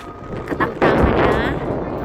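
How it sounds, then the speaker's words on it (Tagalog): Wind blows outdoors near a small community on a sunny, breezy morning, buffeting the microphone with rough low rumbling gusts that strengthen after a brief lull, while a person talks over it. "Mahangin, pero hindi na masyadong malamig."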